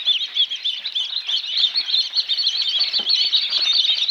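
Dense, continuous high-pitched peeping of many newly hatched chicks from an incubator chirping at once, close and loud with no pauses.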